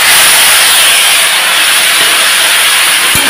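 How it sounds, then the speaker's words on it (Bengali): Taro pieces hit hot oil already holding nigella seeds and slit green chillies, setting off a loud, dense sizzling hiss that stays strong throughout, with a small clatter near the end. "তো এখন এই যে কচুটা দিয়ে দেব।"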